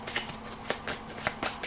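Playing cards for the Level 7 Omega Protocol board game being shuffled, a quick run of crisp riffling bursts repeating every few tenths of a second, close and moderately quiet with no talking.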